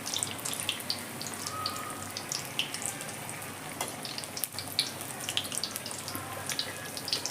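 Potato vada fritters for Maharashtrian vada pav fry in hot oil, a steady dense crackle and bubbling sizzle throughout with scattered sharper pops, fairly quiet and without talk.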